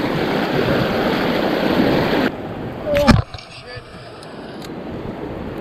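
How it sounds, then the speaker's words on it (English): Fast-flowing water of the Tyenna River in Tasmania rushes loudly and close for a couple of seconds, then drops away abruptly after a sharp splash, leaving a quieter, more distant wash. "That's some fast water."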